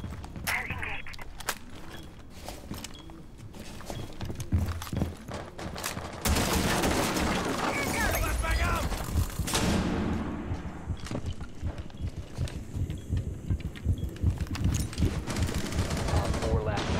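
Rapid gunfire crackles through a shooter video game, with dense bursts of automatic shots and single cracks close by, and a voice talks briefly between them.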